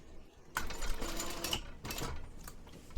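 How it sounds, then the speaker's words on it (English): A sewing machine stitching a quarter-inch seam on a backpack, a close, rapid mechanical whir that starts, pauses briefly and runs again in short bursts, with no talk. "go ahead and sew this using a 1/4 inch seam allowance, making sure to back stitch at the beginning and end"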